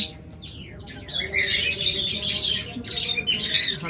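Pair of pet lovebirds, local breed, squawking repeatedly in harsh, shrill bursts close by, with faint chirps and background noise throughout.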